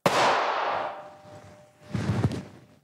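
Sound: Rodenator R1 propane-fired rodent control device test firing

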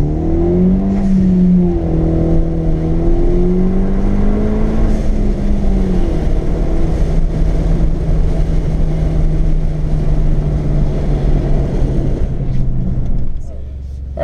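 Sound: Hyundai Veloster Turbo accelerating, Injen intake and blow-off valve sound

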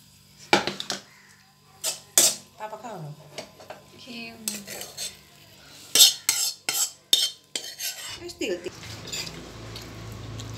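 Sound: serving stir-fried kangkong with tofu onto a plate

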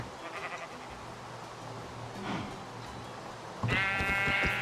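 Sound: sheep bleating in a video game

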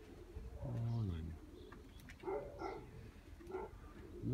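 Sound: young pigeons

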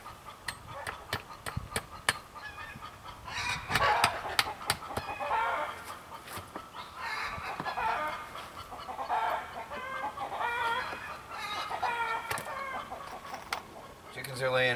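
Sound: chickens clucking

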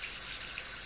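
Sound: kitchen faucet water flowing through a new low-flow aerator

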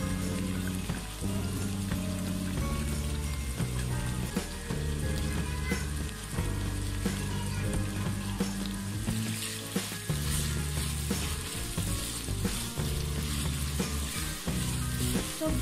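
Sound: frying fish, carrot, capsicum and green chilli

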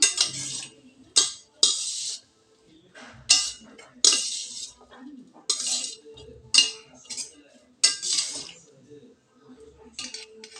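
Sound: spoon clinking while mixing fried rice in dish

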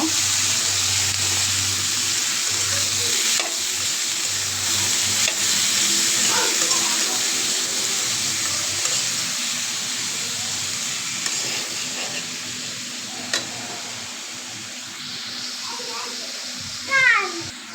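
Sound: vegetables frying and being stirred in a pan

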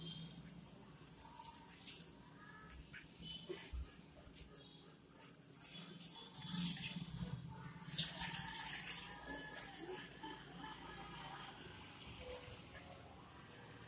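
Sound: cold water being poured over fresh paneer in cloth

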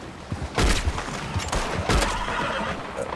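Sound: horse neighing in Red Dead Online video game

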